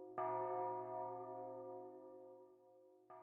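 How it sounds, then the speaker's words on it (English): A single deep bell tolls inside Tartarus in Persona 3 Reload, one resonant strike that rings out and slowly decays, followed by the start of a second strike at the end. "Didn't even know Tartarus had a bell."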